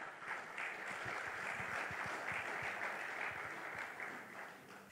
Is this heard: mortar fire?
no